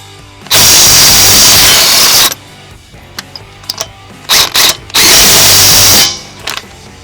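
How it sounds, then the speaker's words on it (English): DeWalt 20V MAX XR brushless impact wrench in high mode fires two long, loud hammering bursts separated by a few short rattling blips, close and with no talking. "Now let's just put this in normal high mode and I'll show you what that sounds like and how fast this thing is."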